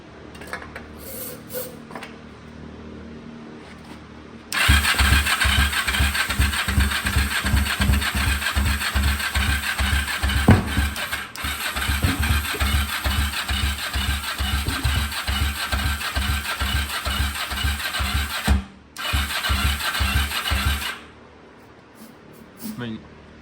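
A 1991 Kawasaki Ninja 500 motorcycle, primed with starting fluid, is cranked by its starter and sputters into loud, uneven running. The engine pulses rhythmically, briefly drops out, catches again and then cuts off, with a voice heard faintly at the start.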